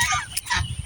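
Geese out on a grassy field beside a house let out brief honking calls, close and fairly loud, in a short burst with no talking.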